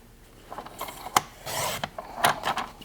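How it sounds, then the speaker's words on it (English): Paper tabs trimmed along a score line for a lace pocket tea light candle craft, a few short, close rasping and scraping strokes with brief pauses between them, and no speech. "so it's easy to line it up and trim it"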